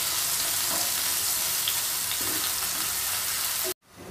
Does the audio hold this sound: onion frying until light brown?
yes